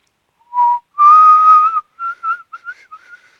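A person unable to whistle properly tries, producing a handful of uneven notes, a longer held tone followed by short choppy bursts that trail off.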